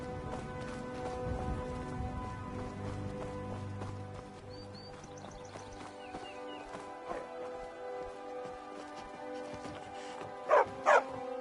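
A dog in Skyrim barks twice in quick succession near the end, the sharp barks loud over a busy game backdrop of ambient music, clip-clopping hooves and scattered sounds.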